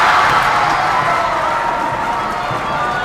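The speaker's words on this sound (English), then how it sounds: "This Brookings crowd, a very good crowd here inside Bob Jostad Gym, trying to help out here" A packed gym crowd at a girls' high school basketball game between Brookings and Watertown roars steadily during free throws, a dense, loud wash of cheering and shouting.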